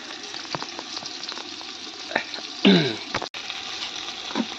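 Onions sautéed in a pan until light golden for veg biryani give a steady, close sizzle broken by spatula knocks and scrapes, with a louder hiss midway and a brief dropout, without speech.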